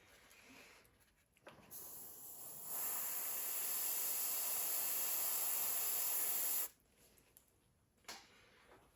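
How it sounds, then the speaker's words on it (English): An airbrush sprays paint onto a 1/48 scale B-25B model in a steady, close hiss lasting several seconds, set between quieter stretches of handling noise. "My airbrush."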